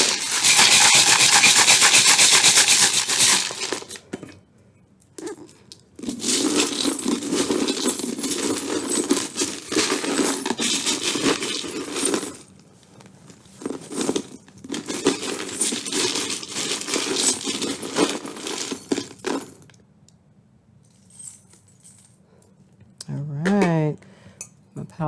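Metal tarot charms are shaken and rubbed together in bursts, then dropped with jangling clinks, close and fairly loud, with a brief voice near the end.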